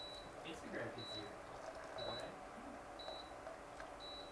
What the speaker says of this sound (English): Could you guys hear the beeping?